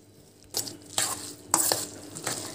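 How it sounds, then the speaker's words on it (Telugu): Cooked rice being stirred together with boiled and cooled milk for curd rice, heard as a few soft, wet scraping strokes of a spoon in a bowl, close and fairly quiet, with no talking. "మనం వేడి చేసి చల్లార్చిన మిల్క్ తీసుకొని మిల్క్తో కలపాలి"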